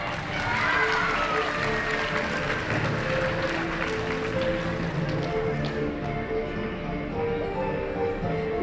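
An audience applauding elementary students at a math olympiad, sustained dense clapping from a crowd that holds steady for several seconds and then gradually thins out.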